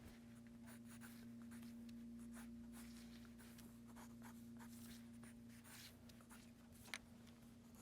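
Soft lead pencil drawing on paper while sketching a perspective drawing, giving a faint, continuous scratchy rasp of strokes with one small tap near the end, quiet against a steady low hum.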